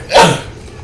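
A single short, sharp sneeze bursts out near the start, close and fairly loud, then fades into quiet room tone.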